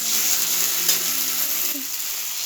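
Spice paste of onion and chili paste with Kashmiri chili powder sizzles in a pan, a bright continuous hiss with faint scraping stirs, loud and close, no voices.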